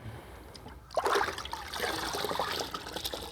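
Liquid splashes and trickles into a bucket of water as Optimum No Rinse car wash solution is poured in and mixed, a close, steady pouring sound with no talking.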